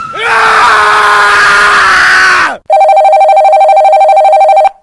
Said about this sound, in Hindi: परेशान शिवानी राजीव को फोन करती है